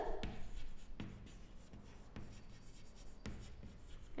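Quiet scratching of writing on a board during an accountancy class, with soft strokes and occasional sharper taps from the writing tool, no talking.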